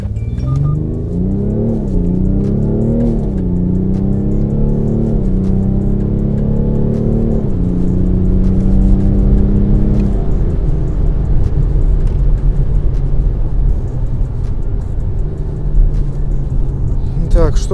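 A BMW X5 M50d F15 diesel SUV pulls hard from a standstill in sport mode with stability control off, its engine droning loud and close as rising revs break into several gear shifts before settling into a steady high-speed roar.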